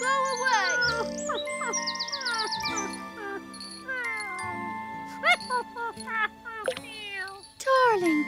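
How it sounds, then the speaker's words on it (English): A dog's bell gives bright tinkling jingles and chimes among playful musical tones and a brief childlike voice in a Noddy cartoon, lively and close. "How odd. I can hear jingling."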